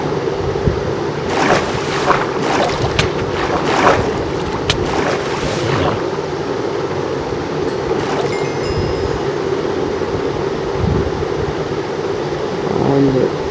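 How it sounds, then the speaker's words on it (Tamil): Flowing water in Minecraft, the block-building video game, makes a loud, continuous, close wash and gurgle. A few soft knocks near the start come from in-game play, with no speech. "தண்ணி ஃப்ளோ இப்படி கண்டினியூ பண்ணி விட்டுறலாம்."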